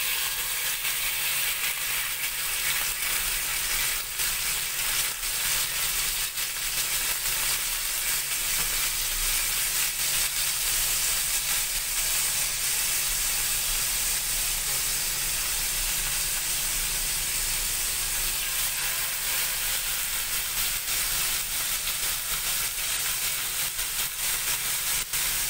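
Chicken inasal frying in a wok-style pan, a steady, loud hiss and sizzle that runs unbroken throughout with faint stirring scrapes and no talking.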